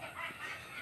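Chickens, including Texas-breed gamefowl, give brief, faint clucking for under a second against a soft background.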